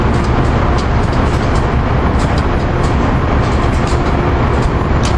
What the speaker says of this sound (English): Here we got regional 161 coming in.